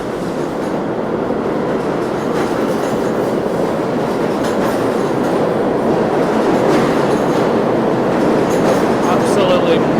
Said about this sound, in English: a really good spot to watch the train go flying past is this corner right here.